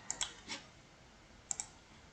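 Typing on a computer keyboard gives a few quiet, scattered key clicks: a quick cluster near the start, one more tap, then a pair of close clicks after a pause, all in a hushed room.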